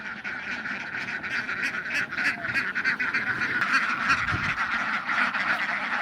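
A crowded flock of running ducks at a duck farm and hatchery quacks continuously, a dense, close chorus of overlapping calls with no pauses.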